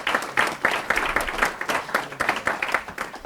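Audience applause at a lecture on property rights, a modest, moderately close patter of hands clapping in an uneven rhythm for a few seconds.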